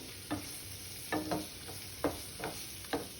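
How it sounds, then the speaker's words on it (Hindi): Paneer cubes stirred and roasted in Kolhapuri masala in a pan, a soft low sizzle broken by about six light scraping strokes of the spoon at uneven intervals. "सब तरफ से इसकी कोटिंग कर लेते हैं। थोड़ा ये रोस्ट भी हो जाएगा, थोड़ा भून भी जाएगा पनीर"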